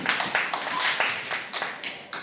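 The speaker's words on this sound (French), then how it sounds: "on applaudit pour elle" A small church children's-class audience claps in a loose, uneven patter of individual hands, close and moderately loud, with brief scattered bursts.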